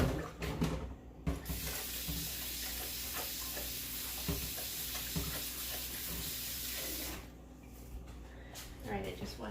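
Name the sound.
washing hands under a running tap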